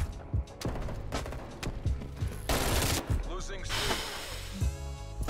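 Rapid submachine gun fire from a Mac 10 in Call of Duty, bursts of close, loud shots over busy game sounds, with someone talking across the clip.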